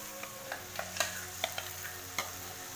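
A spoon stirs watered-down puree in a hot pan for chenna masala with baby corn, giving a steady sizzle broken by several soft scraping clicks, close and fairly quiet, with no voices.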